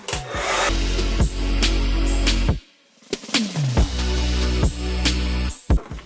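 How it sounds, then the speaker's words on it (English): A handheld hair dryer blows steadily while blow-drying a section of hair, loud and close, with a motor hum that cuts out briefly mid-way and then restarts, its pitch dipping as it spins down and back up. "I'm just gonna blow dry it first like so."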